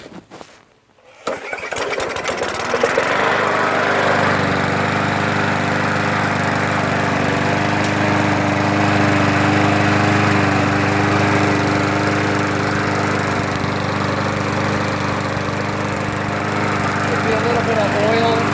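A Murray 4.5HP push lawn mower starts after priming and then runs steadily, its small engine droning loud and close at an even pitch, with brief talk over it.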